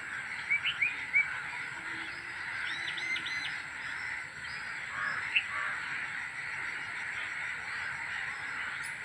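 Distant crows cawing repeatedly over a steady background hum, a few louder calls standing out early on, with no voices.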